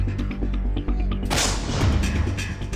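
A howitzer fires with a deep, rumbling boom that rolls on and echoes, over a constant low engine-like drone.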